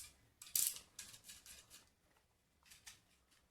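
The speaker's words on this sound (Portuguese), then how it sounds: "A gente vai refilar essas beiradas aqui, que sobraram. Então, com a régua e um estilete," A utility knife guided along a ruler trims leftover paper edges, giving a few quiet, short scraping strokes spaced through a near-silent room.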